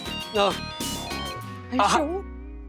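A telephone rings with a steady electronic tone beneath overlapping voices in a Hindi TV sitcom scene; the ringing sits close and moderately loud while people talk over it.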